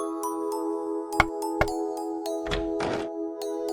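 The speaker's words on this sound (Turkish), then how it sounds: "Dinlenmek için kapıyı çalmış." Knocks on a small cottage door in a forest in an animated fairy tale, two sharp thuds over a steady musical drone, followed by softer rustling bursts.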